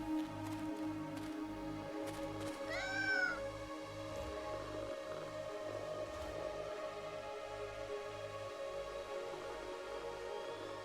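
A cat meows twice in quick, rising cries over a steady low rumbling hum, fairly faint and followed by ongoing background noise.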